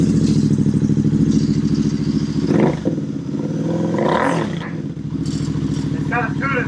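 Royal Enfield Bear 650 motorcycle with an AEW exhaust and decat pipe running at a steady loud idle up close, with a couple of brief throttle swells and a voice speaking over it.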